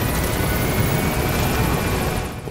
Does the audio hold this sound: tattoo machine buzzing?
no